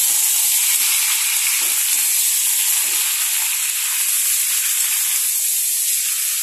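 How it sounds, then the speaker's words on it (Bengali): Mango pieces fry in oil in a pan, giving a loud, continuous sizzling hiss with faint stirring scrapes underneath, close and unbroken throughout. "এবার আমি আমগুলোকে একটু এরকম করে ভাজা ভাজা করে নেবো তেল দিয়ে।"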